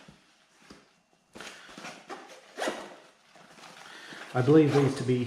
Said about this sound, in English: standard issue zippers for most Maxpedition pocket organizers. It is a 2-pull. You can pull it in one direction as well as the other